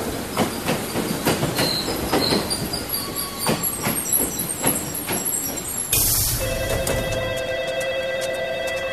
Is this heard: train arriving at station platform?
yes